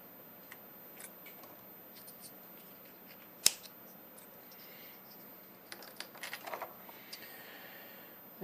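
Scissors snip wires to length for a power supply build: one sharp, close cut stands out, followed by a cluster of lighter clicks and handling noises in a quiet room.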